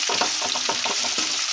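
Onions and chilies sautéing in a pan for rasam, with a steady close sizzle and rhythmic scraping stirs repeating about every quarter second throughout.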